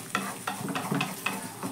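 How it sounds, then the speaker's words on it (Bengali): Two eggs frying with salt in a little oil in a pan make a close sizzle broken by several scraping strokes in an uneven rhythm, with no voices. "ডিমটাকে এক সাইডেই ভুজিয়ার মতো করে প্রথমে ভেজে নেব।"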